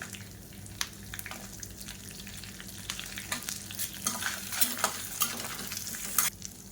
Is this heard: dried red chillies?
yes